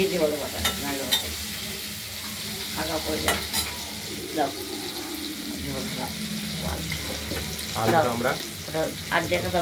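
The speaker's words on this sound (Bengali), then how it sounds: "আলুটা ভাজা হচ্ছে শোনা যাবি শোনা যাবি" Potatoes frying in a pan for a paneer and potato curry, a steady sizzle with stirring scrapes and some clinks running throughout, fairly close.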